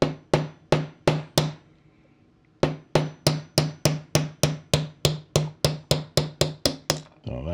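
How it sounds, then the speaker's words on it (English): Sharp metallic taps from a small hammer knocking the feed out of a 1936 Parker Vacumatic fountain pen: five quick strikes, a brief pause, then a long run of evenly spaced taps, close and crisp. "small hammer, gain some height, and then we'll tap this feed out of here"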